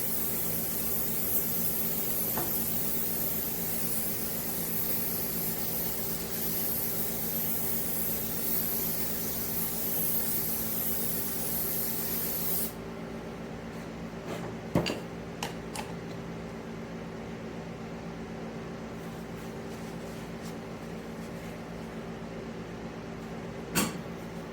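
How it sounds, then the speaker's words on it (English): A continuous hiss of mold release being sprayed onto an epoxy table mold lasts about twelve seconds, then stops, leaving quiet room tone with a few scattered clicks and taps. "gonna pour my mold release, or spray it on my mold."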